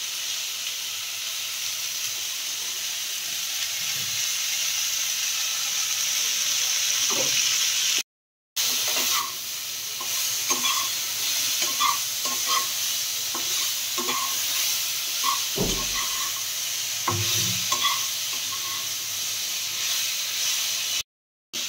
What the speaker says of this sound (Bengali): এই যে নুন মেশাচ্ছি, নুন হলুদ দিলাম।